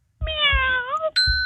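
A single drawn-out cat meow, close and clear, cut off by a bright electronic ding chime, played as a sound effect during a radio show animal quiz.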